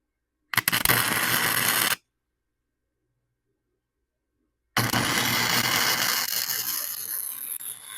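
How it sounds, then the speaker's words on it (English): A trailer hitch is welded onto a Ford Ranger in two bursts of loud, close, crackling buzz. A short first weld is followed by silence, then a longer second weld. "I'm only going to weld the back here in this top part."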